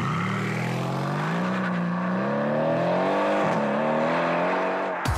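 Mercedes-AMG C 63 S sports coupé engine running steadily while driving, a loud sustained drone with smoothly shifting pitch that rises and dips over five seconds and stays close and continuous.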